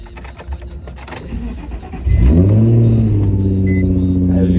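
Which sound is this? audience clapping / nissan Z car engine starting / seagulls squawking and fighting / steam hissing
nissan Z car engine starting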